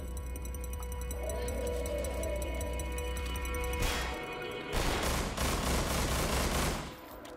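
Gunfire in Estranged Act I: a steady machine-like hum gives way to a sharp blast near the four-second mark, then a burst of rapid automatic fire before things quiet down again.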